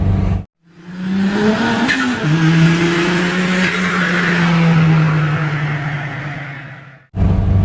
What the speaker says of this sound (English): I've decided to take the little Mini before it goes back to the customer